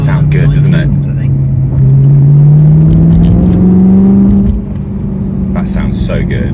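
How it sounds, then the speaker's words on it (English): A 2009 BMW E92 M3 with its V8 engine revs up in a rising, sustained drone that climbs smoothly for several seconds before dropping back to a lower idle, loud and close. "I do like the sound of that. This is my first V8."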